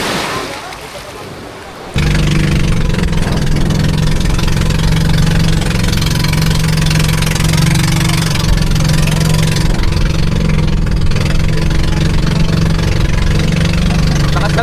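Boat engine running steadily on a ride to Mantige Island, a loud constant mid-pitched drone that kicks in after a quieter opening and continues throughout with water and wind noise, with voices faintly under it.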